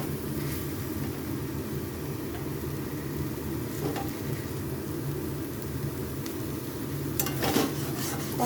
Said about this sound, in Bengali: তো আপনারা কিন্তু ভালো করে এটা কষিয়ে নেবেন